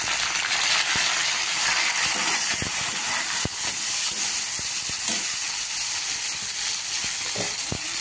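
Boiled flat bean seeds hit hot oil in a frying pan, giving a loud, continuous close-up sizzle and hiss that holds steady throughout, with faint scattered clicks and no talking.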